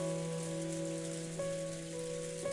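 Rain falling in the rainy Golden Land of the game Umineko When They Cry, a steady soft hiss of drops under sustained tonal music, with no voices.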